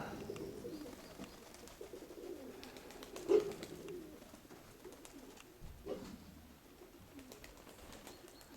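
A backyard flock of pigeons coos faintly, with a few soft low calls and one brief louder note midway, set against quiet outdoor ambience with no voices.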